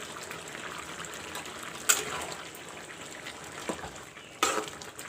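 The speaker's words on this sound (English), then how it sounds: "Now I will put in some chopped tomatoes." Chopped tomatoes frying with nearly cooked white pumpkin in a pan for curry, a steady soft sizzle throughout with two sharper bursts where ingredients hit the hot oil, and no talking.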